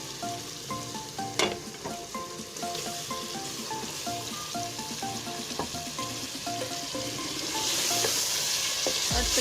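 Chicken stirred into a cooked-down tomato masala for bhindi gosht sizzles loudly in the pot, with a steady run of spoon scrapes and clinks and the hiss rising toward the end, no speech.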